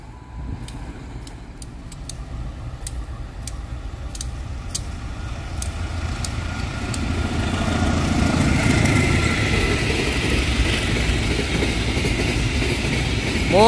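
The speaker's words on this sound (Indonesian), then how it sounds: "Ada kereta parsel" A parcel train rolls steadily past nearby in Indonesia, its rumble swelling and growing louder partway through, with repeated rhythmic clicks of wheels over rail joints and no voices.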